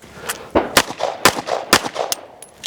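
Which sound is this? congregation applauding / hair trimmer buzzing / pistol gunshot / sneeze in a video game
pistol gunshot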